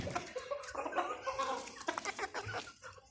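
Several hens cluck busily as they run outside in a farmyard, the calls close and overlapping in short, uneven bursts with no talking.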